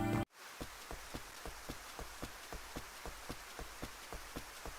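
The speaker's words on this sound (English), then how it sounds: "I really like how the music disappears and you just hear the rain on rainy days" Rain on a rainy day in the Rune Factory video game, with a soft continuous patter broken by regular light ticks that repeat about every third of a second after a brief cut at the start.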